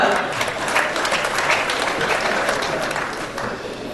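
Sustained audience applause at a summit conference, a thick wash of clapping from a large crowd that holds steady and eases slightly toward the end.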